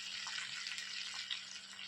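Water hits a pan of hot frying mustard seeds and sets off a steady, close sizzling hiss that stays even and unbroken throughout, with a faint low hum underneath.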